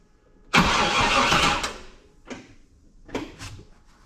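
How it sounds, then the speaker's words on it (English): A Chevrolet 1500 pickup engine cranks and catches with a loud roar that holds for about a second, then two shorter revving bursts follow, up close with no talking. "maybe I have to crank the engine over to"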